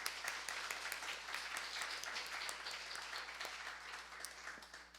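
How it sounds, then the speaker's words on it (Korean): A church congregation gives thankful applause during a Sunday service, a brief round of quiet, scattered clapping that gradually thins out, heard from a distance. "우리 두 분께 우리 감사의 박수 올려드리겠습니다."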